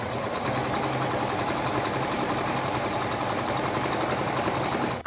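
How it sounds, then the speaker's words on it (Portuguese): A sewing machine runs steadily, stitching together fabric scraps, a loud close rapid mechanical whir and chatter that continues unbroken. "Como a máquina vai costurar aqui"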